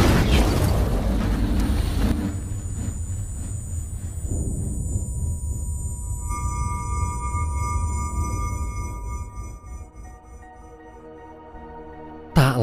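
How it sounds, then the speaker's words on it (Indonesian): A film explosion opens with a loud, close blast that rolls into a long, fading rumble, and sustained tonal music rises over the decay. "Akibat ledakan itu, Oscar tewas"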